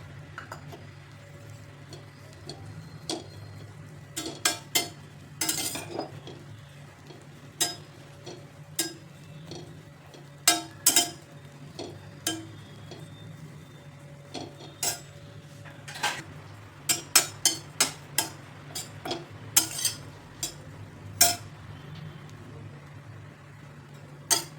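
Grated dry coconut roasting in a pan, stirred with a metal spoon that gives intermittent sharp clinks and scrapes against the pan over a low steady hum, close and quiet, with no talk.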